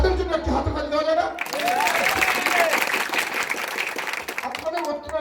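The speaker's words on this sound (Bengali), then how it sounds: "তাদের জন্য একটি হাততালি দেওয়া যায় না?" Crowd at a political election rally bursts into loud sustained applause after a voice, clapping filling most of the moment before speech returns at the end.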